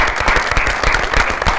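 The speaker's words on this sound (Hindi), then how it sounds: "सारी तालियों में वेलकम करते हैं जी डाकिया साहब को।" A TV studio audience claps warmly to welcome a guest onto a talk show, the applause full and close, with a slightly rhythmic beat and no talking over it.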